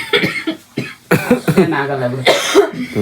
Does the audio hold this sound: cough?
yes